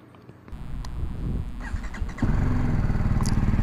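A BMW G310R motorcycle engine, just back from an oil change, starts and runs with a low rumble, then rises to a louder, steady, throbbing idle, close by.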